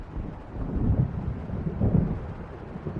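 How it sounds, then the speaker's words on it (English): A thunderstorm in Alan Wake Remastered: low rumbling thunder swells twice over a constant dark wash of rain and wind, with no voices. "It seems there's a storm coming."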